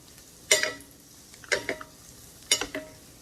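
Shrimp egg foo yung frying in a wok as hot oil is ladled over the top: three sharp bursts of loud sizzling about a second apart, each fading quickly, with a low hiss between.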